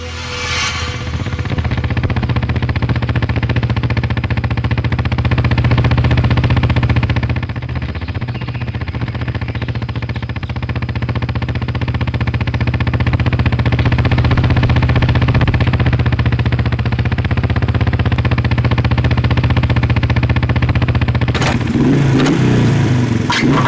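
A faulty motorcycle engine runs and revs steadily for a long stretch, loud and close, its rumble rising and falling before cutting to a brief clatter near the end.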